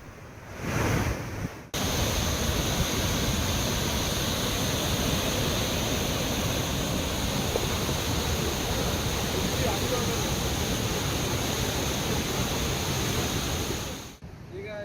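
Floodwater roars steadily into the nearly full Krishnarajasagar reservoir on the Kaveri during heavy inflow, a dense, loud rushing noise that continues unbroken throughout.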